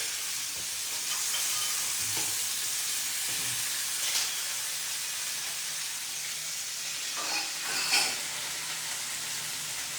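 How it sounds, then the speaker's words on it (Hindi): Chopped tomatoes go into a pan of sautéed onions in a home kitchen, giving a steady close sizzle and hiss with a few brief louder stirring flares, and no talking. "अब इसी के साथ इसमें चले जाएंगे चॉप टोमेटो।"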